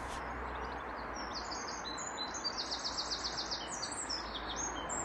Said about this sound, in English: What a lovely song. Goodbye, Mr. Wren.